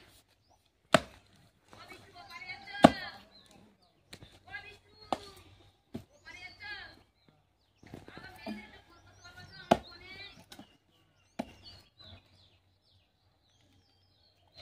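Taro plants being pulled up and chopped in a village garden, a few sharp cutting thuds spaced out over rustling leaves, with a person speaking in between and birds chirping faintly in the background.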